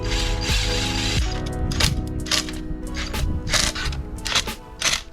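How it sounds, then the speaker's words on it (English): Wood screws are driven into a wooden shelf frame of 1x3 supports, with a close, loud burst of power-driver whirring followed by a series of short, sharp clicking and ratcheting bursts. "Then I attached them to the vertical 1x3 supports using 1 1/4 inch wood screws."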